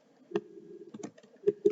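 Computer keys are struck a few times, sparse and separate, each tap sharp and close, over a low steady hum while a name is entered.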